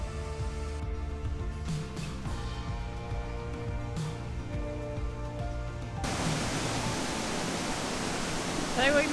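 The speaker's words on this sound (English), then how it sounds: "So we made it to Arve Falls and it is fair flowing today." Arve Falls, swollen after rain, gives a steady broadband roar of rushing water that surges in loudly partway through, following quieter humming ambience.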